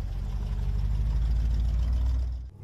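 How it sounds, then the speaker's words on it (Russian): A Soviet GAZ-66 truck engine, not yet warmed up, idles with a loud, close, deep steady rumble before cutting off near the end. "Мотор еще не разогрелся. Мотор свой, от ГАЗ-66."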